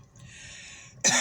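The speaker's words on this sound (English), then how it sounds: "I have a little cough and sniffle" A single sharp cough bursts out at the end of a short pause, loud and close, after a low steady background hum.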